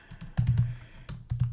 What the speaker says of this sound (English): Oh my goodness, I'm having trouble typing.